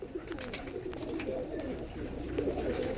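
Andhra pigeons in a loft coo in low, steady overlapping calls, a soft continuous murmur of several birds close by with no talking.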